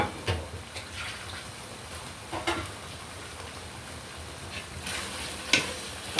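A utensil scrapes and stirs green chicken curry with bamboo shoots in a pot over a steady simmering sizzle, with occasional clinks against the sides.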